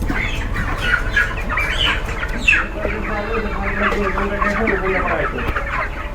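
Month-old chickens inside a poultry farm cluck and squawk continuously, many birds overlapping in a busy, close chorus with short sharp calls throughout.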